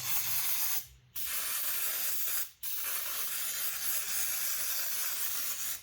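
Brake cleaner sprayed from an aerosol can while cleaning a 2017 Honda Forza scooter drivetrain, a close steady hiss broken by two brief pauses between bursts.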